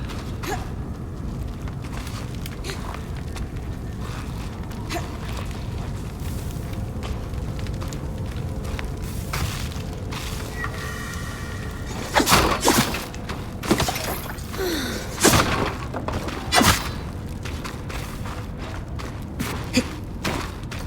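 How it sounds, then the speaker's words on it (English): An infernal allium bursts into flame against an ice wall in the video game Eternal Strands, melting it: a few sharp, crackling blasts and thuds rise out of a steady ambient bed, each one short and fairly loud. "Infernal alliums. They combust when broken. So, if I toss one at the wall, its fire will melt the ice."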